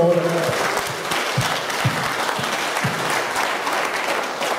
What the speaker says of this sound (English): A big, big round of applause. Over the head claps always.